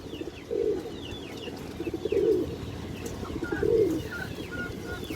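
Male pigeon cooing in three close, moderately loud bursts spaced about one and a half seconds apart, with faint chirps from other birds in the background.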